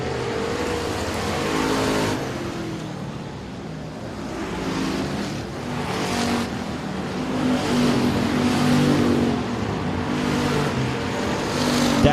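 Factory stock race cars at Sabine Speedway, a dirt oval, roaring steadily at a distance with engine drone swelling and fading as the pack circles the track.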